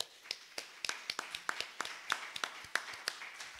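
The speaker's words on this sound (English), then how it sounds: "Let's give all of them a big round of applause." Scattered clapping from a church congregation during a Sunday service, a sparse, quiet background of applause punctuated by distinct individual sharp claps in an irregular rhythm.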